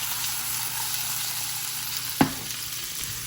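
Onions, ginger and garlic fry in hot oil with a cinnamon stick, giving a steady, close sizzle with one brief sharp clatter partway through and no talking.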